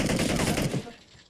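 Rapid automatic gunfire from the mobile video game PUBG Mobile, a dense burst of close, loud shots that rattles for about a second before cutting off and fading.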